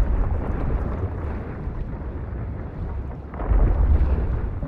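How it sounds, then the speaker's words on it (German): Underwater volcanic eruption in Shadow of the Tomb Raider, a deep muffled rumble that rolls continuously and swells into a stronger boom near the end. "Für die Explosion sind nicht wir verantwortlich."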